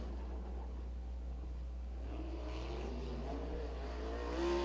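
Race car at Lincoln Speedway on a qualifying lap for PA Speedweek, its engine a steady distant drone that swells and rises in pitch toward the end, heard alone.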